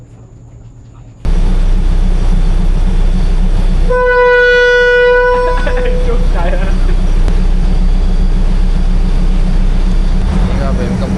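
A train rumbles by close and loud in a steady heavy roar that keeps going, its horn sounding briefly partway through, while a person talks over it.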